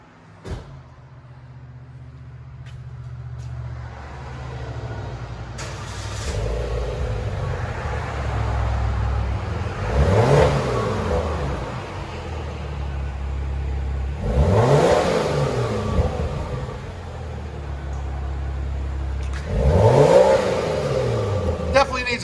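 A 2009 Volvo S80 T6 turbo with dual exhaust and the resonator deleted idles, then sharply revs three times at spaced intervals, each rise and fall of the exhaust roar clear and close, with people talking between revs.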